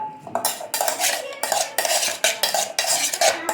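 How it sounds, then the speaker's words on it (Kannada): A spoon mixes masala into spicy girmit in a metal bowl, making loud, rapid, rhythmic clinks and scrapes close up. The strokes come in repeated bursts with no talking. "ನೆಕ್ಸ್ಟು ಇದನ್ನ ಮಸಾಲ ಹಾಕಿ ಮಿಕ್ಸ್ ಮಾಡಬೇಕು."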